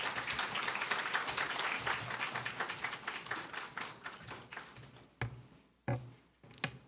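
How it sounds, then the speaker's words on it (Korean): Church congregation applauding to welcome a guest pastor: a full burst of clapping that gradually thins into a few scattered, separate claps before falling quiet. "우리 박수로 한번 큰 박수로 맞이하겠습니다."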